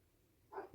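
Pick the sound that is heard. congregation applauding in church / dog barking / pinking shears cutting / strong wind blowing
dog barking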